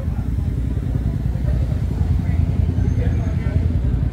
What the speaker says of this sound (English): Got the Ducati right here.